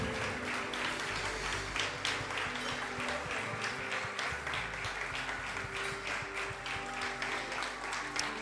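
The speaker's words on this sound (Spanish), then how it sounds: "Fuerte, fuerte ese aplauso para el Señor." A church congregation applauds during a worship service, sustained clapping blended with music and voices that fills the whole stretch at steady loudness.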